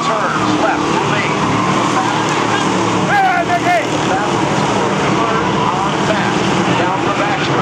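Stock cars race around a half-mile DARE Stock oval at the Spring Sizzler, a dense continuous engine roar with passing cars under constant loud commentary.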